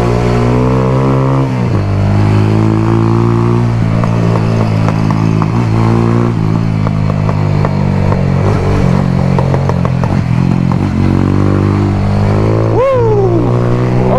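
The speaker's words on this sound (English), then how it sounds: "Bike feels slow around them corner" A motorcycle ride near the beach at Strawberry Fields, St. Mary, Jamaica, with a loud, close engine that climbs and drops in pitch through gear changes and throttle shifts, steady and without pause.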